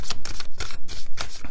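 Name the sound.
deck of playing cards being shuffled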